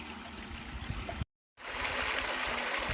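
Water rushes from the spray bar of a 6-inch Gold Rat highbanker in a steady, loud outdoor flow, broken by a brief cutout before resuming.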